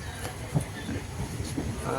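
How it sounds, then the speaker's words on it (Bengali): A Bangalore to Howrah train rumbles along with a low steady roar and faint rhythmic clatter of wheels, heard from inside at moderate volume. "এস এম ভিটি থেকে আমাদের ট্রেন ছেড়ে দিয়েছে"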